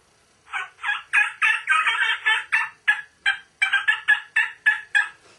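A hand-held mouth call imitates a wild turkey gobble, producing a rapid series of about fifteen loud, rattling bursts in quick succession, close and clear with no talking, as used by a spring turkey hunter.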